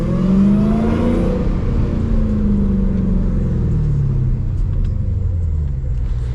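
A 640hp Dodge Charger SRT Hellcat engine on a night drive, a loud, close, continuous low growl and rumble that swells at the start and holds steady, with no voices.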